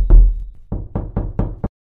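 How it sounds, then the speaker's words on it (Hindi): Knocking on a door latch in a silent house, a horror-story effect: a loud rap, then a pause and a quick run of five more close, sharp knocks in a steady rhythm, with no voices. "तभी अचानक बाहर दरवाजे की कुंडी खटखटाने की आवाज सुनाई दी।"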